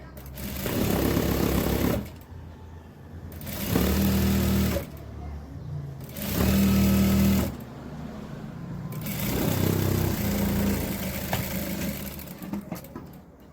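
Sewing machine stitching a cross-cut fabric drawstring (dori), running in several loud bursts of whirring with short pauses between them, nearby.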